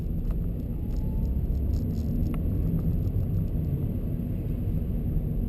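A 2018 Ford KA+ with a 1.2-litre, 70 horsepower engine drives steadily, a continuous low rumble of engine and road noise heard from inside the car, with faint ticking above it.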